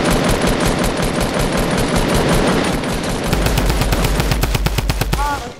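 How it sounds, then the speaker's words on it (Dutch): Revolver gunfire rings out in Fortnite Battle Royale, loud and close. Shots come in a fast, sharp string over a busy, dense game background. "Iemand probeert mij op te schieten met de revolver."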